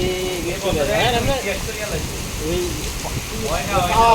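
Heavy rain pours steadily in Riyadh as a hiss beneath a person talking throughout.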